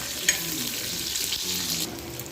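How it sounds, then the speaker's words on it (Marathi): Onion frying in oil in a handi pot, cooked for a goat meat curry: a steady, close sizzle with a few brief stirring scrapes and clinks. "मस्त असा कांदा फ्राय करून घ्यायचा आहे आपल्याला थोडंसा त्याला कलर येईपर्यंत"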